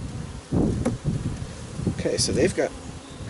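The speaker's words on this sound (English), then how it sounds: "Just some bees on this one." Honeybees buzz around a hive box during an inspection, a busy droning hum with brief louder passes close by, while a person speaks briefly over it.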